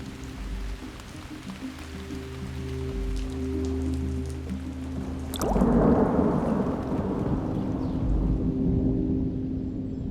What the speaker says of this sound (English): During the next thunderstorm, machine tracks fill with water.